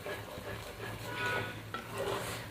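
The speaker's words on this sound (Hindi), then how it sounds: "अब इनको डाल के अच्छे तरीके से मैं इसको ना भून लूँगी" Masala fries in a pan as a spoon stirs it, soft sizzling with light scraping clinks of utensil on metal, close and quiet.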